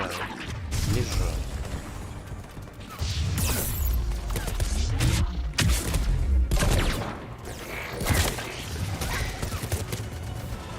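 Enemy gunfire in Mass Effect 3 comes as repeated loud bursts and volleys of shots mixed with impacts, while someone talks over the combat.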